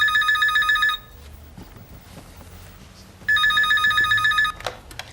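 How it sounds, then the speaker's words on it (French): A telephone bell rings in loud, repeated electronic bursts, sounding for about a second, pausing, then ringing again, in a quiet room with no talk over it. "Vous pouvez pas arrêter ce téléphone!"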